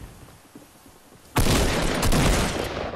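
Sudden loud gunfire bursts out in Fortnite, a rapid volley of close shots that continues densely after a quiet lead-in.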